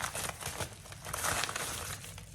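Crinkly plastic or paper packaging around a piece of jewellery, a gold ring, being pulled open, giving a steady run of close, busy rustling and crumpling with no voice over it.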